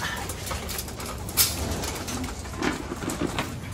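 Breeder pigeons in a loft coo softly amid a constant background hiss during feeding, with a sharp click and faint rustling close by and no talk.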